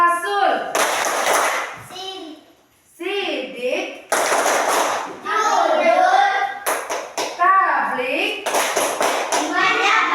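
Children and an adult chant short Indonesian words in turn during a classroom clapping game, punctuated by bursts of rhythmic group clapping between the calls.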